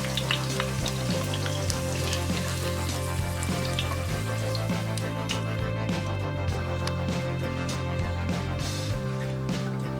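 Garlic sizzles steadily in a hot pan for chicken adobo, a continuous close frying hiss with faint clinks and no talk.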